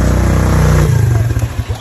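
A motorcycle engine approaches and idles up close, its low steady hum breaking into an uneven, rising rumble and rattle as it pulls near, with no talk over it.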